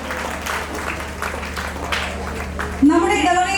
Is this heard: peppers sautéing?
no